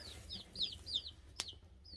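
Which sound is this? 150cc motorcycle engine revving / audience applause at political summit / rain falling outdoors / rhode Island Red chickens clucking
rhode Island Red chickens clucking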